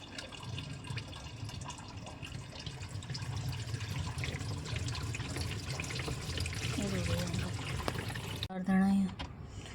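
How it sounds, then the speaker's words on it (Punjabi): Pressurized water sprays and splashes inside a washing machine being cleaned for several seconds, a broad continuous hiss with a brief louder burst near the end. "ਪ੍ਰੈਸ਼ਰ ਮਾਰ ਕੇ ਦੇਖੋ ਪਾਣੀ ਦਾ"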